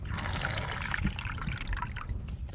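Water runs from a golf course drinking fountain in a fairly soft, continuous splashing trickle, close by with outdoor background and no speech.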